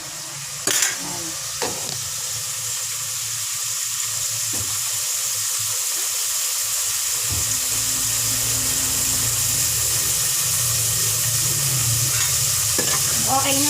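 Ginger, onion and tomato sauté in a pan with a steady close sizzle, punctuated by occasional scraping stirs and clinks of a utensil against the pan.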